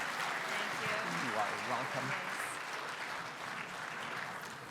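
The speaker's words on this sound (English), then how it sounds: "let's give her a round of applause" Faint applause fills a hall as a speaker is welcomed at the official opening of a conference. The steady clapping runs under a voice for nearly five seconds.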